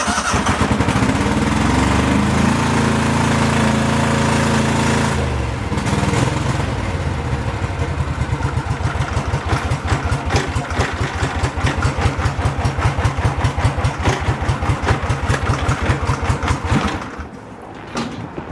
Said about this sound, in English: It's got a full, true Kohler engine, and it's got 226 hours on it.